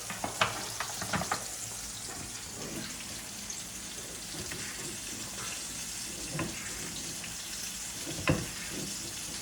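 Crucian carp dredged in wheat flour fries in a pan with a steady, close sizzle and crackle, broken by a few sharper pops and spatters.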